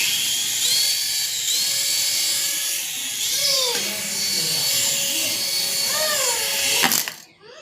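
A small toy drone flies nearby with a high, whining buzz that rises and falls in pitch as it climbs and maneuvers, then cuts off sharply near the end; a person talks intermittently.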